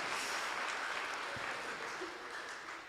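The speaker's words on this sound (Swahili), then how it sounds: "tumpigia makofi" A congregation at a Kikuyu church service claps together in a sustained wash of applause that gradually fades, somewhat distant and moderately quiet, with faint voices mixed in.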